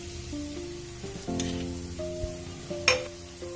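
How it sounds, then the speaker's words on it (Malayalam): A chilli snack mixture with salt is sautéed in a pan, giving a soft sizzle beneath scattered scrapes and a few sharp clinks from a utensil, with a low tonal hum in the background. "ഇതിലേക്ക് ആവശ്യത്തിന് ഉപ്പും ചേർത്ത് നല്ലോണം വഴറ്റിയെടുക്കാം."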